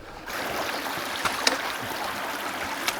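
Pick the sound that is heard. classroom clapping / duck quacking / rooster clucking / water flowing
water flowing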